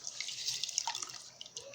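Hot water being poured for palm nut soup, a steady close hissing splash of liquid running continuously with a faint gurgle partway through.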